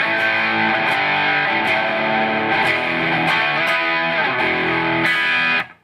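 An electric guitar through an effects board with a crunchy overdriven tone plays chords and riffs, loud and close, ringing out before stopping abruptly.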